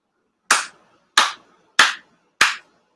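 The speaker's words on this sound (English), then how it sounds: "4 sincere claps with the officiant." Four sharp ritual hand claps at a Shinto ceremony honoring Tenchi Kane no Kami, evenly spaced and close, each a crisp crack in an otherwise silent room.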